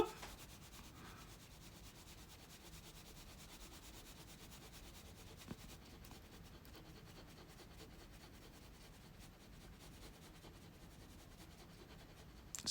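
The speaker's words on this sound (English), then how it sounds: "So what I'm doing is I'm burnishing the color, the metal." An agate burnisher rubs steadily over colour on a metal surface, giving a faint, continuous scraping hiss with no talk.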